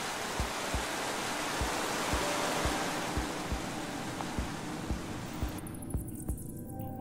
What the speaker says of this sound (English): I first met Ruben near a waterfall like this.